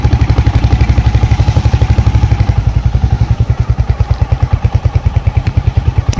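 A motorcycle engine thumps in a steady, rapid rhythm at close range on a rough mountain road in rain, loud and continuous throughout with some rattling clatter.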